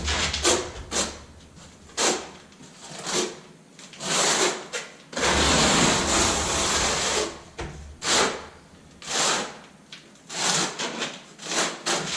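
Scraping and rasping strokes of a trowel spreading tile adhesive across a floor, repeated in an uneven rhythm, close and fairly loud with no voices.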